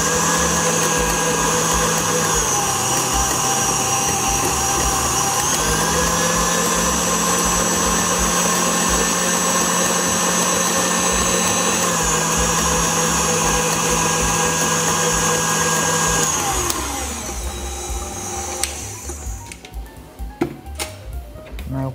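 An electric mixer whips mascarpone cream for tiramisu, a loud, steady motor whine running close for about seventeen seconds, pitch dipping briefly under load, then cutting off to quiet clinks and handling noise.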